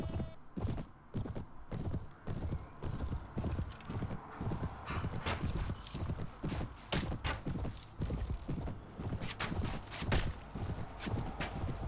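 Horse hooves in the Mount & Blade Warband video game, with a fast, rhythmic clip-clop of galloping steps going uphill that stays close and prominent against faint battle background.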